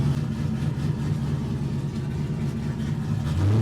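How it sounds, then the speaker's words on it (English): A BMW E36 drift car running on ethanol idles with a steady, loud, low engine rumble close by, swelling slightly at the end as it revs. "it's freaking incredible how good this car runs"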